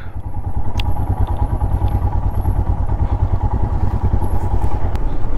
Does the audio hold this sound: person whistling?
no